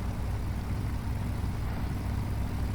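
The iV Heritage 211 Silverado truck mod in SnowRunner idles with a steady, even engine drone, rich and low, smooth and unbroken throughout with no voices.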